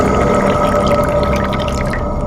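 Water runs steadily into a storage container, making a continuous close, loud gush with a faint dripping texture and no talking.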